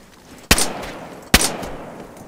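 Two sharp, loud gunshots from DayZ Standalone, spaced under a second apart, each cracking and trailing off with a brief echo over a quiet background.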